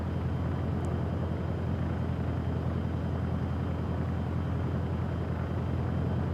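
An airplane engine in a flight simulator video game drones steadily, a loud broadband roar with a low hum that holds unchanged throughout, with no voices heard.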